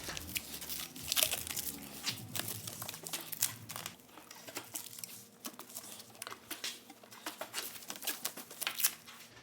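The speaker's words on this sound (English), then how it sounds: "So I'm going to put some plastic around those as well." Plastic sheeting crinkles and rustles in bursts as it is wrapped around supports in a coach shop, with sharp crackling peaks spread over the whole stretch and no voices.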